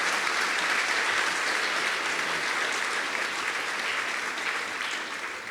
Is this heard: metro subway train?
no